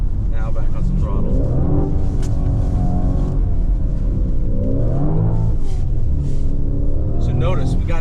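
A 2026 Lamborghini on an ice driving course, its engine revving up and down in swelling waves as throttle is applied and lifted, close and loud throughout.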